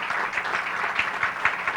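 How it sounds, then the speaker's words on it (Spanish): Audience applause at the close of a talk during a Mexican forum on gynecological cancer, a dense, steady patter of many hands clapping together in a hall, moderately loud and unbroken for the whole moment. "le brindamos un fuerte aplauso al doctor Samuel Rivera por esta ponencia"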